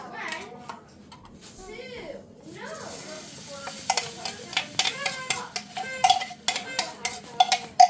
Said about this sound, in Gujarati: આપણે જે ચટણી બનાવી હતી પ્યુરી આલાની મરચાંની અને ગાર્લિકની તો એ શેકી દઈએ